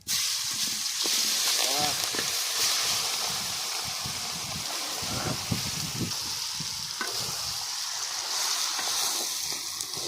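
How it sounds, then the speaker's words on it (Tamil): Chicken masala for chicken sukka frying in oil in a village outdoor kitchen, a steady broadband sizzle running throughout with stirring scrapes and some voices talking over it. "சிக்கன் மசாலாவை வறுத்து எடுக்க போகிறோம்."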